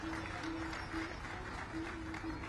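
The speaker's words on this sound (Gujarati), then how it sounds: "જોરદાર તાળીઓ સાથે આપણે વધાવીએ મહાનુભાવની." A seated stadium audience at a civic welcome for dignitaries in Ahmedabad gives dense, sustained applause. It continues steadily at a moderate distance for the whole moment, with a faint tonal hum under it.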